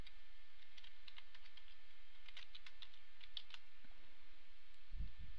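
Typing on a computer keyboard: quiet clusters of light key taps in irregular bursts over a faint steady hum, ending with a soft dull thump.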